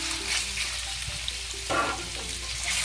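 Sliced pork sizzles in very hot oil in a pot, a steady loud crackle and hiss with a brief surge of spattering midway, with no voices.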